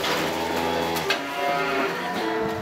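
Cattle on a farm low in a steady, drawn-out moo with harmonic tones, fairly close, over a constant background hum, with no talking.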